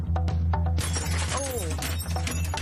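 Glass pane in an old door with a skeleton-key lock shatters in a sharp crash, followed by tinkling fragments, over a steady low hum from the setting.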